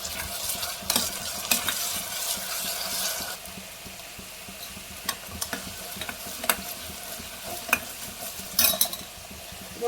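Onions frying in a pan with freshly pounded ginger-garlic paste being stirred in for a mixed vegetable curry, a soft steady sizzle under repeated scraping and clinking spoon strokes against the pot, no talking.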